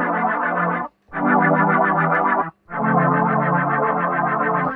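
An Emulator II synthesizer plays a rich, buzzy sustained tone with LFO modulation that wobbles it steadily, heard as three held notes separated by brief silences.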